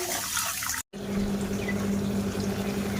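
Water pours over sugar in a bowl for syrup, a close, continuous gush broken by a short cut before a steadier, humming pour.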